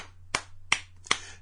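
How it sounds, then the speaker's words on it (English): Three sharp claps ring out at even intervals, close and distinct against a low steady hum, with no talking. "they get a clap for that."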